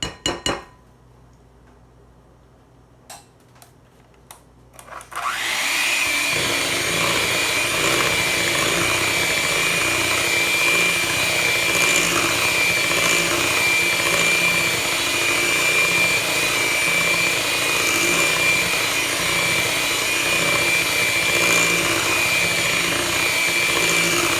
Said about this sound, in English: I'm going to continue mixing till everything is thoroughly combined